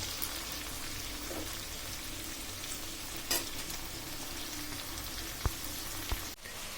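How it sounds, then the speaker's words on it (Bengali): Bitter gourd slices frying in a pan with a little turmeric and salt give off a steady, dense sizzle throughout, with a few faint clinks near the end and no talking. "এক পাশ হয়ে যাক, তারপর আমি অপর পাশ উল্টাই দিব।"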